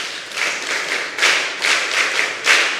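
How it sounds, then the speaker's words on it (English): An audience at a mentorship session claps in short uneven bursts, loud and close, with gaps between waves of clapping. "I need this clap"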